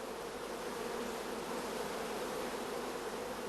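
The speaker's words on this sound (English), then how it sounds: "in the queenless starter colony, we can hear the loud buzzing of the orphan bees" Orphaned bees in a queenless starter colony give off a dense, continuous buzzing, a steady even drone heard close with no voices.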